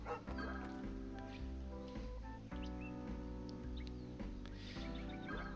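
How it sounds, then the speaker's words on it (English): Dog barking in the GameCube video game Lost Kingdoms II, short yips sounding over a dense, steady bed of game music. "Talk to the dog. Hello, dog."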